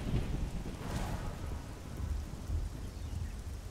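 Steady rain pours in the game Oblivion, a continuous hiss with a low rumbling undertone like distant thunder, no voices present.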